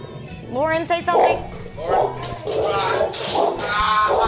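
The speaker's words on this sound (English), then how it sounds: "Somebody coming in house and puppy barking." A puppy barks and yips in a house as someone comes in, short excited barks close by, mixed with a person talking over them.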